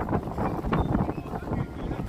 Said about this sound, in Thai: โอ้ลมแรงมากเลยนะผู้ชมครับ